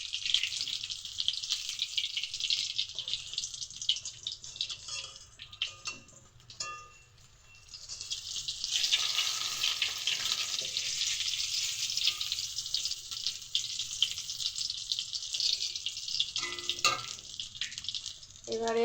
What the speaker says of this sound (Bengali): চিলি ফিশের ভেটকি মাছটাকে ম্যারিনেট করে এই যে ভাজছি